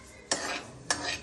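Sesame seeds roasting in a pan are stirred with two quick scraping sweeps, each a short rasping stroke close by.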